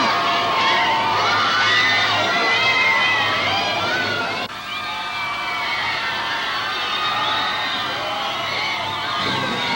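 About 1,500 youngsters pack a London theater for the Beatles, screaming and cheering loudly. The shrill, sustained crowd noise swells over itself, dips briefly midway, then rises again.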